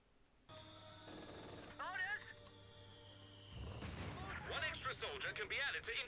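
A grenade explodes in the World War II strategy game Company of Heroes 2, bursting midway through a stretch of sustained tones and artillery-like battle noise, followed by a busy jumble of combat effects.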